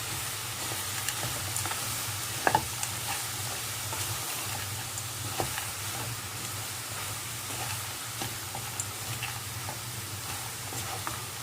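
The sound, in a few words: cooking spiced samosa vegetable filling in a pan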